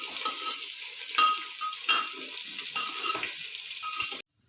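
Food being stirred in a clay pot over heat: a steady scraping, sizzling texture with a few sharper clinks of the spoon, close up and fairly loud, ending abruptly in near silence.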